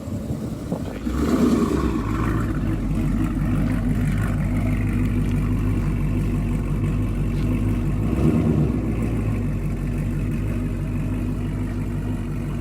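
A Dodge SRT 392 Scat Pack with a new exhaust idles and rolls onto dyno rollers, its deep V8 rumble steady and close, with a brief throttle blip near the start and another swell partway through.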